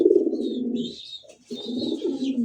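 Pigeons coo close by in two low, throaty bursts with a short pause between, over faint high background chirping.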